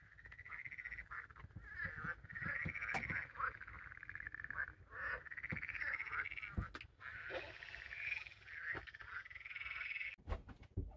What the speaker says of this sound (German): weil er die Kröten gehört hat